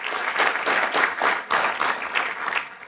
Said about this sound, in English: A great round of applause.